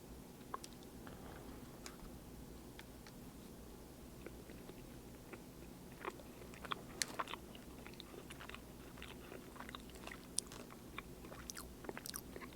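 Soft, spongy Jaffa Cake with orange and chocolate being chewed close to the mic, with repeated moist bites and squishy crunches and no talking.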